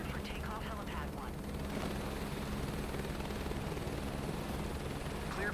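Helicopter turbine and rotor in Microsoft Flight Simulator 2024 running steadily at a helipad before takeoff, a continuous loud drone with low rumble throughout, and radio-style voices faintly under it.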